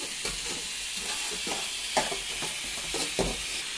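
Afghan pulao is stirred in a pot over a steady sizzle, with repeated scraping strokes at an irregular rhythm, close and fairly quiet.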